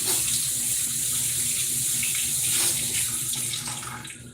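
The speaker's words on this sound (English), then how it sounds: "rinse my hands off." Steady running water from a faucet splashing over hands, loud and continuous, easing off slightly toward the end.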